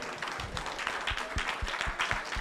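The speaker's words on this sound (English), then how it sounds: "give yourselves a round of applause" An audience at a leadership seminar applauds, a steady patter of many hands clapping at moderate loudness, fairly close and continuous for a few seconds.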